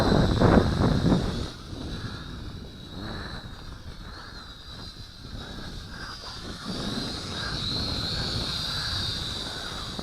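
Syma X5C quadcopter drone flying outdoors against strong wind, a thin high-pitched motor whine riding above heavy rumbling wind buffeting on the microphone, steady throughout.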